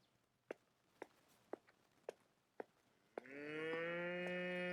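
A video-game cow in Rising World lets out a long, loud moo after a run of evenly spaced soft clicks or footsteps in an otherwise quiet scene.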